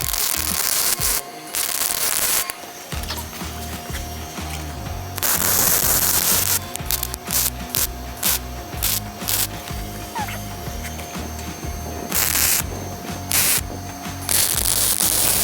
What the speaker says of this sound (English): we got it all welded up.